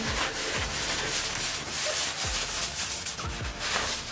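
Cloth rubbed over freshly grouted bathroom tiles to lift grout haze, giving soft repeated scrubbing strokes in an uneven rhythm, close and fairly quiet with no talking.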